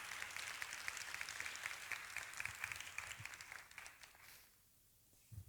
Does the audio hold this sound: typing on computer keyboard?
no